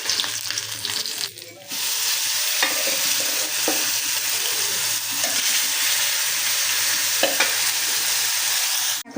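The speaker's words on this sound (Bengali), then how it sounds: "মাছগুলো ভাজা হয়ে গেছে।" Fish fries in hot oil in a home kitchen while being stirred, a steady dense sizzle running nearly throughout with scraping stir strokes, loud and close, after a brief quieter opening.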